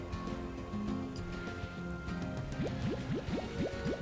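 Ancient water being collected in the video game Slime Rancher, heard as a liquid filling and bubbling sound of rising gurgles in quick succession, moderately quiet, with no speech.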